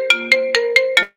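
Telephone ringtone with five short, evenly spaced electronic tone bursts, loud and close, alone with no talk.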